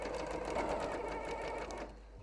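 A sewing machine stitches over ribbon in a fast, steady mechanical whir with a rapid needle rhythm, close and continuous before easing off at the end.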